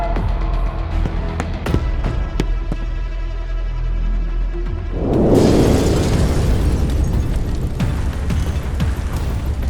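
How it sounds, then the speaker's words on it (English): Deep booming video-game explosions in Roblox Brookhaven with a rumbling blast midway, crackling debris and low droning hum throughout, loud and close. "We need to find where the explosions are coming from."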